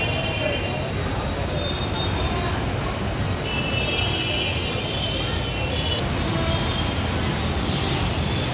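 A crowded Hyderabad metro train on the LB Nagar to Miyapur line rolls into a station with a continuous rumble and rattle, faint wheel squeal and a steady wash of crowd noise.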